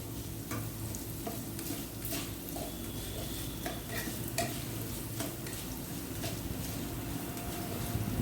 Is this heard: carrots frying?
yes